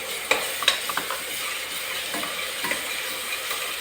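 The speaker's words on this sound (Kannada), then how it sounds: "ಈಗ ನಾವು ಹಸಿಮೆಣಸಿನ್ಕಾಯಿ ಏನು ಪೇಸ್ಟ್ ಮಾಡಿದ್ವಲ್ಲ, ಇದು ಕೂಡ ಇದಕ್ಕೆ ಫ್ರೈ ಮಾಡ್ಕೊಳ್ಳೋಣ." Green chili paste fries in a pan for biryani, giving a steady close hiss and sizzle with a few soft scrapes of stirring and no voices.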